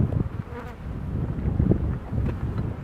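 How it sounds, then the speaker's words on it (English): Bees buzz in a beehive kept by a treatment-free organic beekeeper, a low, wavering drone that hums steadily and close by, with no talk over it. "it's got a few bees in it."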